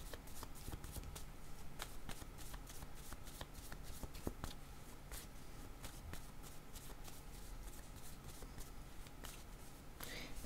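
Tarot cards being shuffled and drawn, a continuous quiet riffling and flicking of cards with scattered sharper snaps, close and steady throughout.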